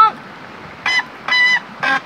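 A 2-inch hydraulic water ram pump gives three loud, nasal honks like a goose, each about a quarter second long, following a short first honk; close by, with no talking over them.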